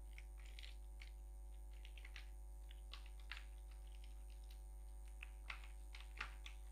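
Computer keyboard keys tapped while typing a name into MS Word, quiet clustered clicks in short irregular bursts over a steady low hum, no talking.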